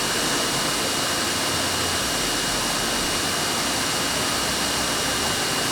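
A Ryobi 1900 PSI electric pressure washer sprays continuously with the trigger held, a loud, close, unbroken hissing roar of water jet and pump noise throughout.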